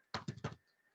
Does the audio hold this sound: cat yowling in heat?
no